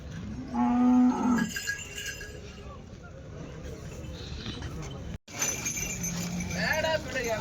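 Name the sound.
cows mooing at a cattle market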